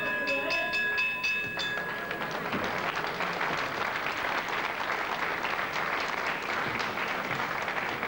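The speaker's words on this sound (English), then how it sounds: "Just get the applause for these two men." Crowd at a professional wrestling bout between King Ben and Mal Sanders breaking into sustained applause, dense clapping filling the hall after a brief stretch of whistle-like tones at the start.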